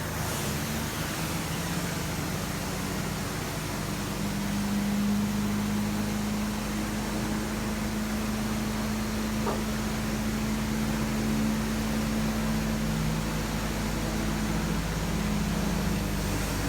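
Carpet steam cleaning machine running on a job re-cleaning carpet left by another cleaner, a steady loud mechanical hum with a constant low drone and broadband hiss throughout, no talking.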